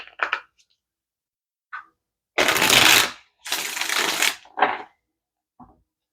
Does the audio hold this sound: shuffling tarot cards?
yes